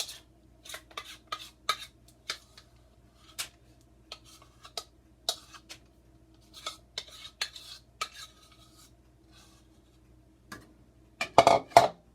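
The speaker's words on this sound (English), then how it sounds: "And now I can spread out the rest of my yogurt." A spoon spreading and scraping yogurt across a tray, producing sparse light clicks and scrapes at an uneven pace, quiet and close, ending in a busier cluster of scraping, with no voices.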